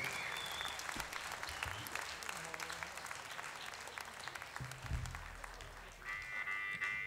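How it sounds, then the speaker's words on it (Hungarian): An audience at a live concert applauds the band with steady, dense clapping throughout, while crowd voices murmur underneath. "egy nagy tapsot a zenekarnak"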